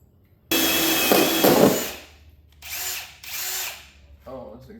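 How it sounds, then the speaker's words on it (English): A power drill bores holes in the case of a portable power station: one long whining burst with rising strain, then two shorter bursts after brief pauses, close and loud, ending with faint handling noise. "got the holes drilled"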